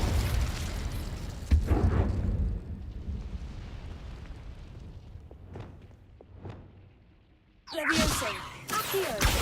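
An Incendio fire spell is cast in Hogwarts Legacy, with a burst and whoosh of flame, a few softer pops, then a loud second blast near the end.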